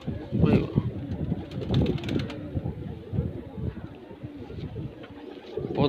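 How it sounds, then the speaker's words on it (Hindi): Domestic high-flyer pigeons, including a Neeldum pigeon, cooing repeatedly in low soft rolling calls, with someone talking over them throughout and faint outdoor wind. "बहुत बढ़िया कबूतर है"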